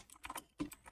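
Quick bursts of keystrokes on a computer keyboard as a short prompt is typed, several clustered clicks, then a louder thump and a few more taps, close and alone with no voices.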